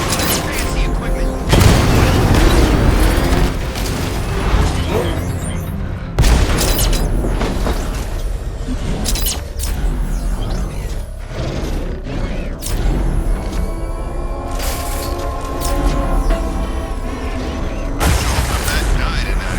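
Heavy booms and crunching blasts in the game Batman: Arkham Knight pound through a dense, loud mix of mechanical clatter and creaking, with voices talking throughout.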